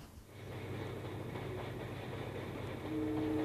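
A train runs on rails carrying refugees toward a safe haven on the shore of Lake Ontario. It makes a steady, close rumbling roll with faint clacking, and a sustained tonal note rises near the end.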